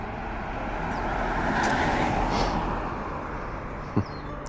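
A car passes on a city street with a steady, broad road rumble that swells and fades over a few seconds, then a brief knock near the end. No voices can be heard.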